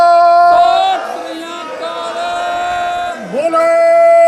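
Near and loud, a leader's drawn-out call rises before a gathered crowd answers with the Sikh jakara war cry at a farmers' solidarity gathering in Hamburg, Germany, the voices swelling into one massed shout.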